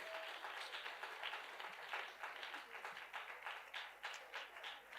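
A church congregation at a revival service applauding, a soft, distant wash of many hands clapping that carries on steadily for several seconds with a faint crowd murmur behind it.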